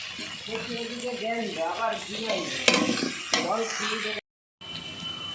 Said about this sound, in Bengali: নেড়ে এটা একটু ভাজা ভাজা করে নিচ্ছি